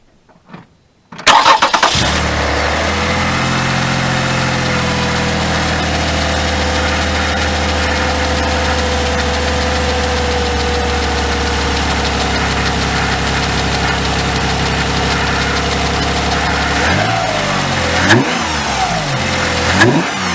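A cold Toyota RAV4 V6 engine with a short ram intake cranks and catches, then runs at a steady high rev for a long stretch before dropping and blipping a few times near the end.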